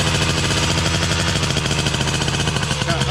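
Old scooter engine with upgraded billet sprockets, air filter and exhaust runs loudly up close, a dense, steady rapid popping rattle with no break throughout.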